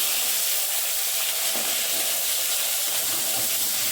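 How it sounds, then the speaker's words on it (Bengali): Potatoes frying in hot oil in a home kitchen, a steady, close sizzle and crackle that runs unbroken and fairly loud, with no voices over it. "আলুগুলো ভেজে নেব প্রথমে।"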